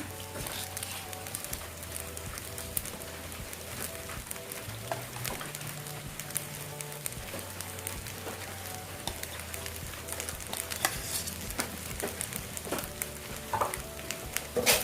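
Shrimp fried rice is stir-fried in a wok, with a continuous sizzle under frequent scraping and clattering strokes of a spatula, close and busy for the whole stretch.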